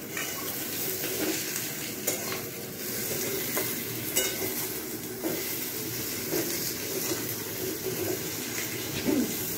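Meat frying in a pan at home, with a continuous crackling sizzle and periodic stirring scrapes and knocks of a utensil against the pan throughout, no one speaking.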